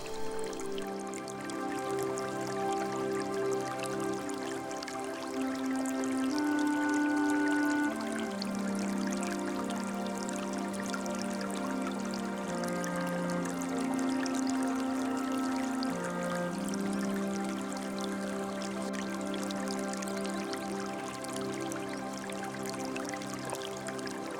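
Cold, clear stream water flows steadily into the mountain lagoon of El Barco in Ávila, a continuous soft rushing and trickling with no pauses, heard alone at moderate loudness.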